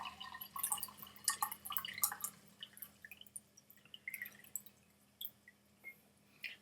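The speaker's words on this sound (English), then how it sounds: "let me pour some water into this glass right here" Water poured into a glass, close and quiet, with a trickle of bright splashy droplets and small clinks that taper off into sparse drips.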